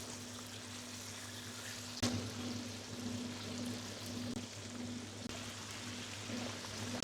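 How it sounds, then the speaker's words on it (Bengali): Fish fry lightly in oil, a quiet, steady hiss and sizzle with a faint mechanical hum underneath and a single louder clack near the start. "জাস্ট এক থেকে দেড় মিনিটের মতো ফ্রাই করছি তারপর তুলে নিচ্ছি"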